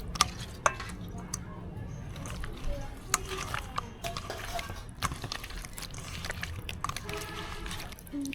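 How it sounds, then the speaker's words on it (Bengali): Koi fish being mixed with spices by hand for koi mach bhapa, soft wet squelching and slapping with scattered clicks, quiet and close, with faint talk in the background. "হাত দিয়ে দিয়ে মা মশলা মাখায় দিচ্ছে"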